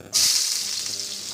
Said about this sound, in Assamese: ইয়াতে মই অলপ কাটি থোৱা অকণমান পিঁয়াজ দিছোঁ